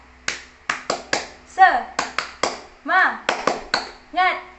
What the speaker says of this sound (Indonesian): kita tepuk semangat aja lagi ya